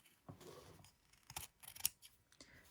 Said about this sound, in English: So I'm just going to trim that.